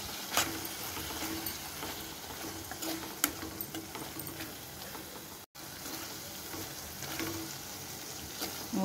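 Ridge gourd curry bubbling and simmering in a pan, a soft continuous sizzle with faint ticks and pops heard close up, with no voices over it.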